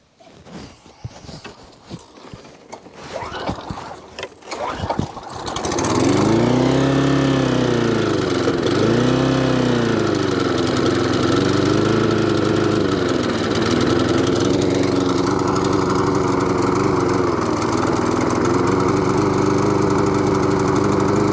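A small Webb lawn mower with a Briggs and Stratton engine bursts into life after some fumbling, then runs loud, rough and uneven, its pitch surging up and down as it over-revs.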